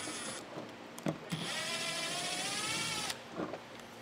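An angle drill whirs steadily for a couple of seconds removing a bolt from a 2023 Buick Enclave, framed by clicks and clanks of tools nearby, fairly quiet overall.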